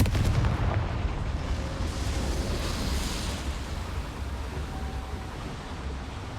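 A Confringo blasting spell detonates at a boiler in Hogwarts Legacy, a heavy close boom up front followed by a rumbling, crackling tail that slowly fades out with no speech.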